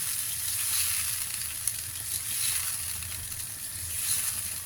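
Meatballs in tomato sauce simmering in a pan after water is added, producing a continuous soft sizzle and bubbling hiss that swells and eases slightly, fairly quiet and with no voices.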